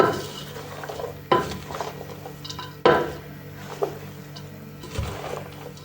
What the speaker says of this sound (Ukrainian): Всі овочі перемішуємо.